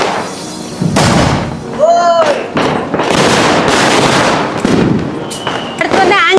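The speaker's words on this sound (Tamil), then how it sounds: "நானும் இந்த மாதிரியே வந்து பெரிய வெடியா வெடிக்க போறேன்." Diwali firecrackers burst again and again in loud, crackling bangs and whistling swoops, with a sharp rising shriek near the middle and another at the end, while voices chatter throughout.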